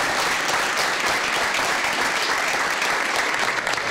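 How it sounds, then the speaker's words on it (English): Applause erupts in a football locker room, a dense, steady roar of many hands clapping together at full strength throughout. "applause."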